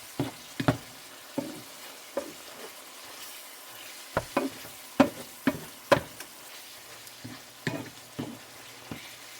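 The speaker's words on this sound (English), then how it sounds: "So I'm just gonna let this simmer." Tomato taco filling simmers in a pan, with a soft steady sizzle under a run of sharp clinks and scrapes from stirring, spaced irregularly and close by.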